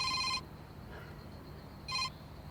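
A telephone rings twice in short electronic trills with a quiet pause between them. The ringing is clear and fairly close, with no voices.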